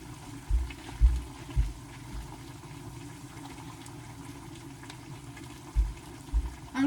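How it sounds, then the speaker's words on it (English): About a quarter cup of water poured into a hot cooking pan for pantry tacos, a soft steady hiss with a few low thumps near the start and end, no talk. "I'm just going to put about 1/4 of a cup of water in there."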